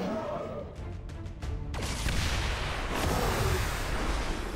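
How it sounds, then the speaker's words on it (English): A claymore set off by a turret in the video game XCOM 2 erupts in a loud blast partway through, after a run of sharp cracks, and leaves a dense, rumbling roar that carries on to the end. "So the turret can explode the claymore."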